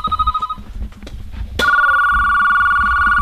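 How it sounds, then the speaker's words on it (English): Telephone ringing indoors: a short electronic ring tone, a pause with faint background noise, then a louder sustained ringtone that continues steadily to the end, with no one speaking. "The phone's ringing again?"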